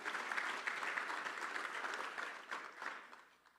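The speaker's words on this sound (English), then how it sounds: "Hand of applause for Esther." A conference audience gives steady applause for Esther, a broad wash of many hands clapping that holds strong for about three seconds, then thins and fades out.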